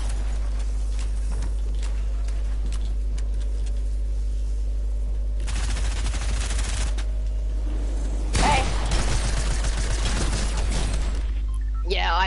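Shotgun fire in Fortnite comes in a couple of harsh, loud bursts of rapid blasts, separated by quieter game sound and a steady low hum, with a player talking at times.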